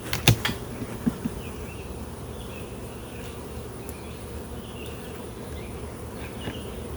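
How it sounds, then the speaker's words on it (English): Dense, steady buzz of many honeybees crowding a honey super on a hive, a continuous close hum with a few brief knocks at the start. "there's definitely a lot of bees up here"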